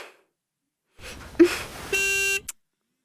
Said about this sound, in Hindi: सुनो, देखो कोई बाहर हॉर्न बजा रहा है।